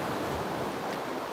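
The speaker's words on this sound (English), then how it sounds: "the waves are just sounding prettier as we go" Ocean waves wash steadily in a broad, soft roar of surf, faint and continuous with light wind noise on the microphone.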